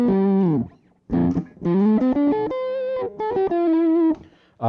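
A lead guitar tone from a Digitech Trio Plus pedal plays a short melodic line of sustained, harmonically rich notes with slight bends, separated by brief gaps, loud and close with no voices.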